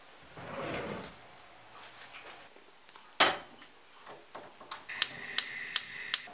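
A kitchen drawer is pulled open while tea is being made, a soft sliding rumble followed by a sharp clack, then a few light clinking taps of cups or spoons.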